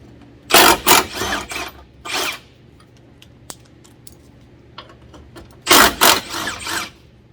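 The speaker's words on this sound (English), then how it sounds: "With a 10mm, go ahead and remove the rearmost screws." A 10mm tool works bolts loose from the cowl of a Nissan 370Z, giving bursts of ratcheting and scraping with small metallic clicks and taps in between, close and fairly loud.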